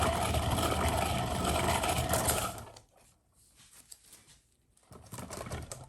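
A spinner whirls a circular acrylic pour painting in maroon tones, giving a steady mechanical whir that stops suddenly partway through, leaving faint light clatter and a low hum.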